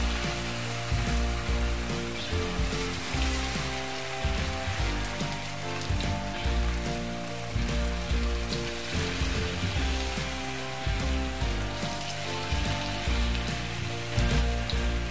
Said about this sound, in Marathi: मंचुरियन चांगले लाल तळून घ्यायचे